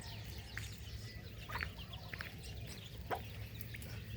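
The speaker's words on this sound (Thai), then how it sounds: "ให้อาหารไก่ครับผม เขามารอตั้งแต่เช้าเลยครับ" Chickens of one hatch cluck at a morning feeding, soft scattered calls and short clucks over a steady low farmyard hum, fairly quiet and distant with no talk.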